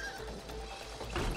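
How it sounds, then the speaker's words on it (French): A horse neighs briefly in the video game It Takes Two, one short whinny over a dense game soundtrack. "Le cheval."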